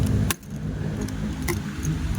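A bunch of keys jangles briefly, with a few sharp metallic clinks spaced over a couple of seconds against steady low background noise.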